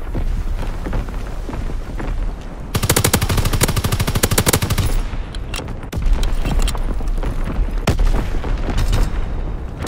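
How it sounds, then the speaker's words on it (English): Division artillery and gunfire in the video game Call of Duty WWII, with dense rapid bursts of machine-gun fire and booming shots filling the scene loudly and continuously. "Firing division artillery."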